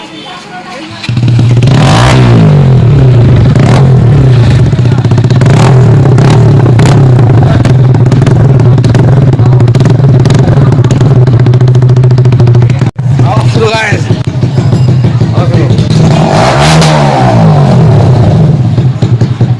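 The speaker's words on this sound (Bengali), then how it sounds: "NS 125cc without exhaust sound." A Bajaj Pulsar NS125 motorcycle runs with no exhaust silencer, giving a loud, raw, close engine drone with a couple of revs that rise and fall, mixed with mechanical clatter.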